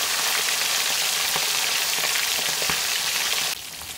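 Tilapia fries in a pan, turning golden brown, giving a loud, steady, close sizzle with scattered sharp crackles and pops throughout; the hiss dips slightly in the last half second.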